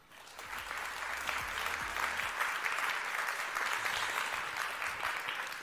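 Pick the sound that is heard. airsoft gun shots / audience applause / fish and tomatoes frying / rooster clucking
audience applause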